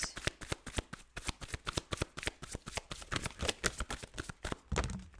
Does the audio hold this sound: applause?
no